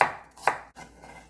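A knife taps a cutting board twice while vegetables for a soy-sauce pork bulgogi stir-fry are sliced, brief close chops with no talk.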